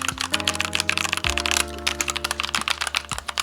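Rapid, irregular clatter of a computer keyboard being smashed with random keystrokes, close and dense, with a few sharper key hits through the burst.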